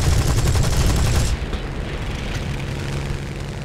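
Anti-aircraft guns in a War Thunder battle pound out a dense, loud burst of rapid shots that cuts off abruptly, leaving a rumbling boom and background battle noise behind.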